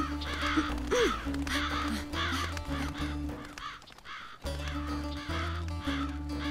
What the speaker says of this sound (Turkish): Bu kargaların nereden ve niçin geldiğini öğrenmeliyiz.